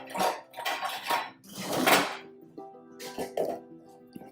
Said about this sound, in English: Now, we put a lid on it.